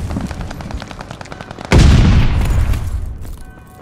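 Gunfire in Call of Duty Vanguard: light rapid shots are followed by a sudden loud, booming blast that rings out and slowly decays, close and dominant with no talking.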